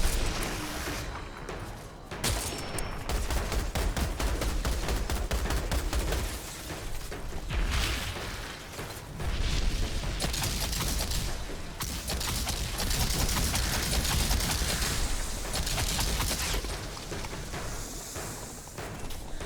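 Sustained gunfire from a mounted gun in the video game Outriders, heavy bursts and booms rolling almost continuously for the whole stretch, loud and close, with a short lull early on.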